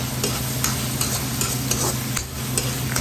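Beef tripe callos sautéing in a pan, with a steady close sizzle broken by regular scraping strokes of a spoon stirring the pan, and no voices.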